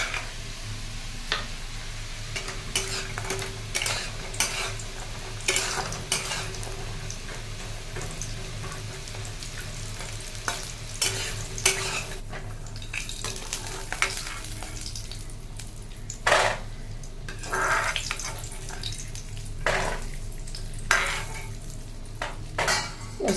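Bori, dried lentil dumplings, frying in oil in a pan, a steady close sizzle broken by repeated clinks and scrapes of a spatula stirring against the metal, with no talk.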